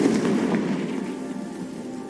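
A Confringo fire spell cast in the game Hogwarts Legacy, a loud explosive burst with crackling, booming texture that fills the short moment and slowly fades.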